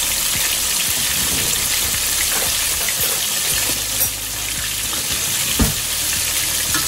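Bluegill and catfish pieces frying in hot oil give a steady, dense sizzle throughout, with a few brief pops and crackles rising over the even hiss.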